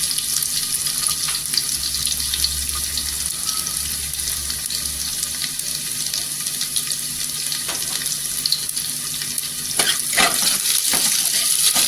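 Garlic and whole garam masala frying in hot oil for vegetable pulao, a steady close sizzle throughout with occasional soft scrapes of stirring and a brief louder clatter near the end, no talking.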